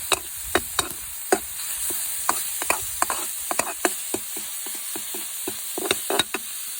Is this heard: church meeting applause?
no